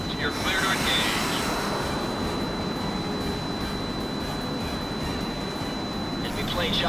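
Enemy plane engines in a combat flight video game make a steady, loud, rushing roar that runs unbroken throughout. A thin high whine sits on top, and no clear voices break through.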